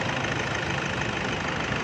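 A Toyota Innova engine runs at a steady idle, an even, close, uninterrupted rumble with no voices over it.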